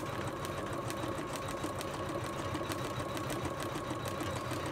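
An embroidery machine stitches out a stuffed toy design in a continuous, even mechanical hum with rapid needle pulses, steady and close throughout with no pauses.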